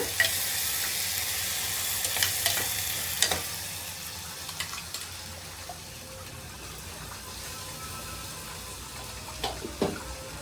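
Ginger-garlic and dry coconut paste with garam masala frying in a pan, a steady soft sizzle with scattered clicks and scraping taps as it is stirred, no talking.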